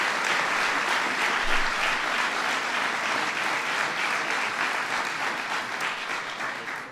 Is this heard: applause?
yes